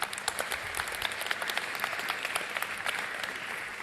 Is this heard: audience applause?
yes